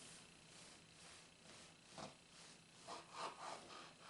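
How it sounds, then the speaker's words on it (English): An old traditional blade, a knife made from a rusted scythe blade, saws through a piece of bread with a few quiet, close rasping strokes, one near the middle and a cluster toward the end, with no talk. "We take our old traditional blade and we cut this piece of bread here."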